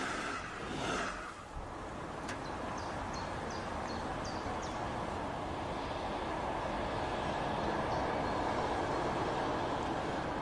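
A steady low rumble of a DB Regio Class 112 train arriving at Travemünde Hafen station rolls along continuously, with faint squealing and a few soft chirps over the top.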